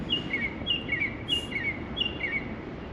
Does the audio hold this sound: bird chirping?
yes